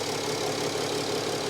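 A Mercedes OM642 3.0L diesel engine idles in an open bay, a steady, dense mechanical clatter and hum holding even and close for the whole short stretch.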